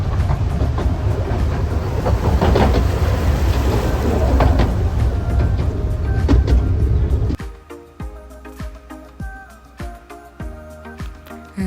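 A loud rumbling, clattering ride on a moving train, steady and close, then abruptly quieter with rhythmic knocking and faint tones as it slows.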